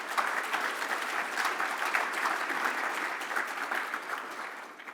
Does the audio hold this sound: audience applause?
yes